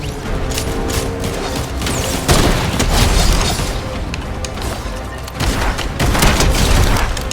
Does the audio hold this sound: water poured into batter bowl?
no